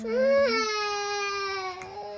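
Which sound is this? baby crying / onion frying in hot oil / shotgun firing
baby crying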